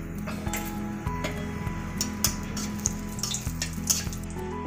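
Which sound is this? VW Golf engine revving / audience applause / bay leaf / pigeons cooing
bay leaf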